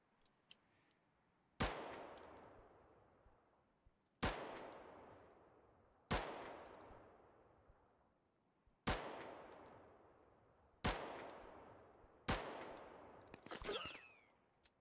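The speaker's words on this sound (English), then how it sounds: "I don't know where those shots came from, probably the right." Six far-off gunshots ring out in the Deadside video game. Each is a single sharp crack with a long echoing decay, and they come at irregular intervals of about two seconds against a quiet background, with a brief scuffle near the end.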